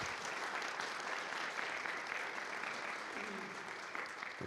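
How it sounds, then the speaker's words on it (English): Sustained applause from an audience at an annual meeting, a steady dense wash of clapping hands filling the room at moderate distance with no pauses. "can you all give these folks a round of applause for their service?"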